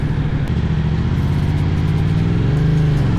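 A Moto Morini adventure motorcycle's engine sounds out while riding, heard as a close, steady mid-pitched drone with a slight rise in revs toward the end.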